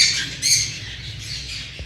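A female breeder parrot squawks and chirps in short, harsh high bursts, with the loudest call near the start, over a low background rumble.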